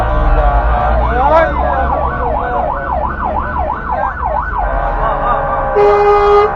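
A loud ambulance siren wails close by in a rapid rising-and-falling yelp pattern over road traffic rumble, ending with a brief steady tone and a car horn-like blare.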